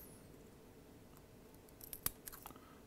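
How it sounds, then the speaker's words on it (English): Scissors snip a cotton wick flush against the O-ring of a repairable atomiser, a few quiet close cuts clustered toward the end over near silence. "I'm just going to take my scissors and place it so it's resting against the O-ring and then just trim it off"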